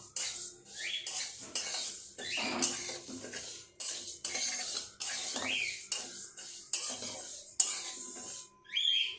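Dal fries lightly in a pan while a spoon stirs it, making repeated clinking scrapes against the metal in an irregular rhythm. The sizzle is very faint.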